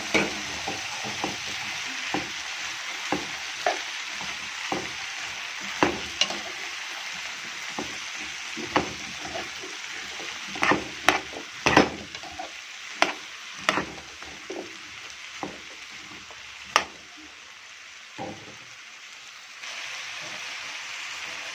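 Peppers and tomatoes sizzle in a hot pan for sausage-and-potato tagine, with a steady frying hiss broken by repeated scraping clicks of a stirring spoon, close and fairly loud throughout.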